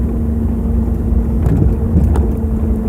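A car rolls slowly along a private dirt road past empty lots in the Arizona desert, a steady low engine rumble with tire crunch and a couple of light bumps, heard from inside the vehicle.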